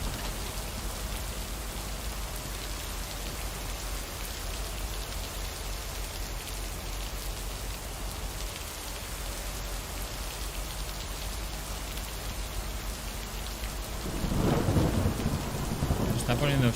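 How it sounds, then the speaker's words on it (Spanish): Heavy rain pours steadily in a storm, a dense continuous hiss, and a deep roll of thunder swells near the end, loud and close, with no voices. "Ha crecido la lluvia, ¿eh? Menudo temporal."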